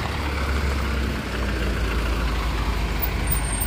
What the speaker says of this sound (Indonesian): kita lihat mikrobus Dieng Batur lagi